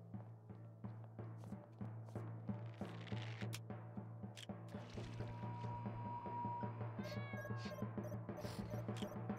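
A cat meows in the video game Dave the Diver, short mewing calls over a steady looping game soundtrack with soft clicks and chimes, fairly quiet and with no talk.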